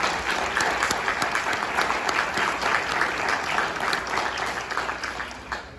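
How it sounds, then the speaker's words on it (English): Audience at a high school gathering applauds the school's Principal of the Year, a sustained wash of clapping with a few sharper individual claps, holding steady and then easing off slightly toward the end. "let's give her a round of applause for that."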